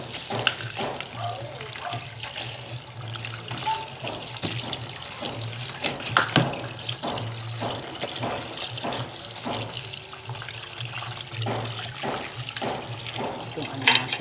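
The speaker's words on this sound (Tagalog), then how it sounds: "Hugasan ko muna ito." Alimasag crabs being rinsed under a running tap, steady water flow splashing throughout with someone talking over it.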